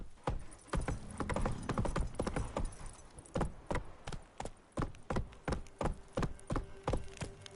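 A horse running at speed in The Witcher 3 game, its hooves clip-clopping in a fast, steady rhythm of sharp thuds on hard ground, close and clear, no talk.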